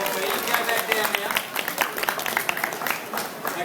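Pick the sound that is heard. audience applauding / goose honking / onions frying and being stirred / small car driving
audience applauding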